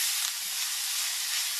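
Chopped Spanish onion softening in Spanish olive oil in a big heavy skillet, a steady, even sizzle that holds without a break, with no voices over it.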